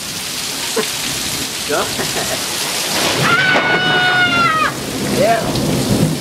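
Heavy rain pours in Lubbock under rolling thunder, a dense steady hiss with low rumbles, while people briefly exclaim and talk over it.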